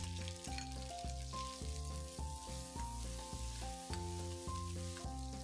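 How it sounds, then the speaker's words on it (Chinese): Chilies stir-fry in hot oil over high heat, a faint but constant crackling sizzle, overlaid by steady tonal background sounds and no speech, while cooking stir-fried squid in black bean sauce. "用大火起锅加入适量的油。 放入辣椒爆香"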